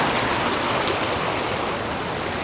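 Water pours steadily down an abandoned railroad spillway in an urban creek, a loud, close, unbroken rushing splash with no voices over it.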